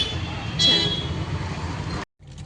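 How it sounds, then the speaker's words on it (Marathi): Heavy road traffic at close range, a continuous low engine rumble with a brief horn-like toot early on, then a sudden cut to near silence before the noise returns. "भरपूर ट्रॅफिक लागलेली आहे"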